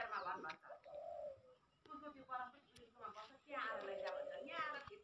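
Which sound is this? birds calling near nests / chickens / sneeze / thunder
birds calling near nests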